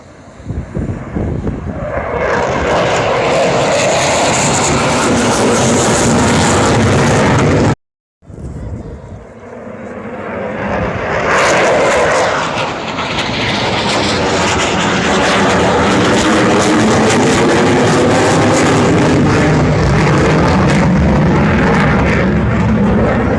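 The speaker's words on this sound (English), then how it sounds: "Eurofighter, one of the best pieces of engineering made by Europe together." A Eurofighter jet roars overhead at the Farnborough Airshow, a loud sustained rushing engine blast that builds, cuts out briefly, then swells again as it sweeps past.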